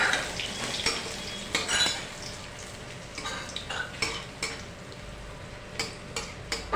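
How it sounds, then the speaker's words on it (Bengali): Crushed ginger and garlic are stirred into hot oil in a pan for a village-style chicken curry, with a metal spoon scraping and clinking in irregular close strokes over a soft, steady sizzle. "এবার এটা হালকা করে নেড়ে নিয়ে আমরা এর মধ্যে দিয়ে দিচ্ছি থেঁতে করে রাখা একটু আদা আর রসুনের কুচি।"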